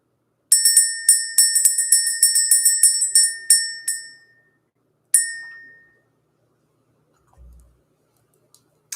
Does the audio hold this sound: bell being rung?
yes